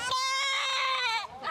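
Goats bleat loudly and close at a Jamaican goat race, one long wavering harmonic cry followed by a shorter bleat, with no talk over them.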